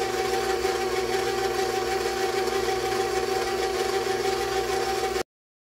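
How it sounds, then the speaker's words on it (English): Electric mixer running on low, blending wet bath bomb ingredients in a bowl: a steady, continuous motor whir with a constant tone, close and uninterrupted, stopping abruptly near the end. "turn my mixer on low, and slowly add it to the mixture"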